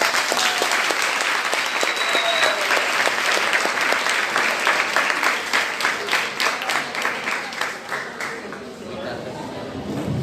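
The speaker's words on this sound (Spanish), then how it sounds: "Por favor, un aplauso." A crowd at an opening forum on thought development gives loud, dense applause that fills most of the clip, staying full and steady before tapering off toward the end.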